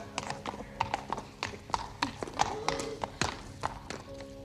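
Horse hooves clip-clop at a steady walking pace, close by, with brief faint voices in the background.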